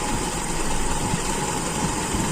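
A Toyota Kijang engine idles steadily and loudly up close, a continuous rumbling drone with no clear change in pitch during the short stretch.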